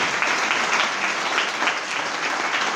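An indoor audience claps steadily at a gathering, a dense, sustained wash of applause from many hands, loud and continuous throughout.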